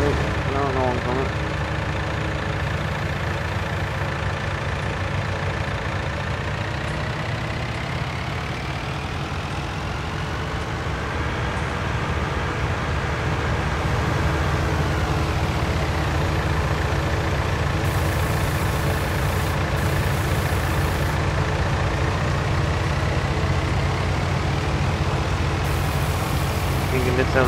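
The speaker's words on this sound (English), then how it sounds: "The tractor could be a bit more powerful." Tractor engine in Farming Simulator 19 runs steadily throughout, a constant mid-low drone with a slowly shifting whine, under continuous game background sound.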